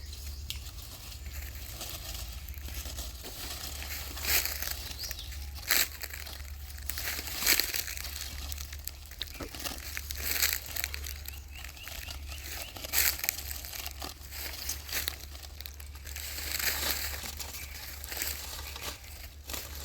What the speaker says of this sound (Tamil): இப்போ நம்ம வந்து அதை பொறுமையாக பிரித்து பார்த்துடலாம்.